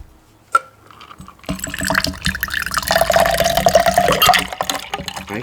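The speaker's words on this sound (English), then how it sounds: "I'm gonna pour this out" After a faint knock, a drink pours into a glass with a steady gurgling, trickling stream that rises and grows busier over a few seconds, heard up close with no talking.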